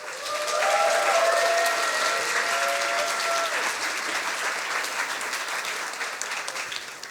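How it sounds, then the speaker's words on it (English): Loud, sustained applause from a Science Slam audience welcoming a speaker to the stage, dense clapping swelling early then holding steady for several seconds, with faint cheers or whistles over it. "Big applause for Niels von Wardenburg"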